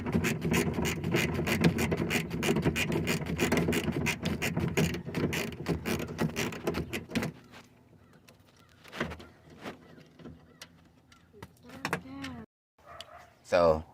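A ratchet works on the bolts of a 2003 Ford Expedition window regulator, fast close clicking for several seconds, then quieter scattered clanks and scraping of the mechanism, with someone talking briefly.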